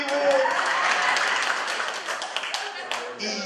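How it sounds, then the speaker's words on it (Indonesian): A burst of lively applause from a church congregation, dense clapping that holds steady and then gradually thins out. "Tepuk tangan dong ibu-ibu."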